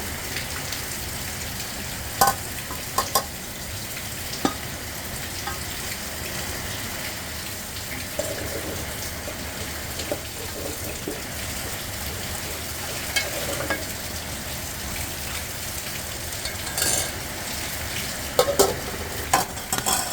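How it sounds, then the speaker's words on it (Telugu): Grains roasting in a pan with oil, salt and turmeric crackle in scattered sharp pops over a continuous dry hiss, with a few louder snaps stirred in now and then. "ఇది ఎలా పటపటలాడతాయో చిటపటలాడతాయో చూడండి ఒకసారి."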